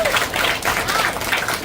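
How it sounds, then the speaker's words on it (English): Applause from the audience at an outdoor steel topping-off ceremony for an elementary school, a short, dense burst of clapping. "Give them a round of applause and give yourselves a round of applause."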